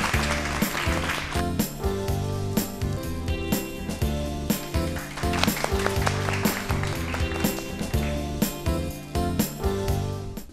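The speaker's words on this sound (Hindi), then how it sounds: "इनके लिए तालियां बजाइए।" Audience applause at a health quiz on encephalitis, loud sustained clapping with music-like rhythmic beats running continuously through the whole stretch.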